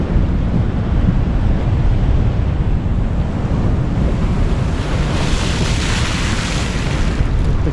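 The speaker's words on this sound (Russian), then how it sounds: "Вот такие волны." Huge storm waves pound the Alushta embankment, a continuous loud roaring surf with wind buffeting the microphone and a swelling crash near the end.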